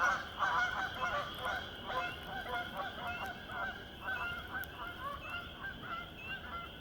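Geese honk in a rapid, clustered burst as the flock takes off in the woods, then the calls thin out and fade.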